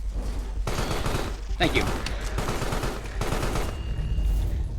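Gunfire in the horror game Carrion as the monster is shot, heard as repeated bursts of shots in volleys with brief pauses, under a voice talking.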